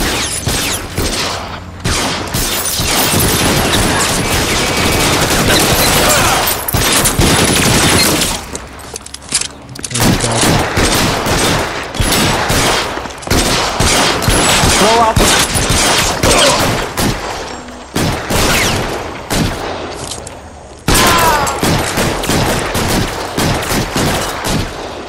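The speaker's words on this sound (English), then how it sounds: "Bullets start flying." Heavy gunfire from L.A. Noire, with dense bursts of rapid shots and sustained volleys that are loud and close, broken by a few brief pauses between exchanges.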